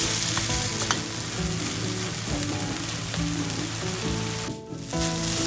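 Apples cooking down with sugar in a pan for turnover filling, a steady close sizzle and bubbling hiss running throughout with faint stirring knocks and no talk.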